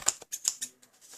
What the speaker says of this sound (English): I'm going to use my larger scissors